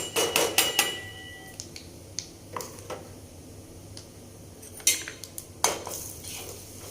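A metal spoon mixes turmeric, red chili powder and spices into bitter gourd pickle in a pot. Scattered sharp metallic clinks and scrapes come in small bursts, close, with quiet gaps between.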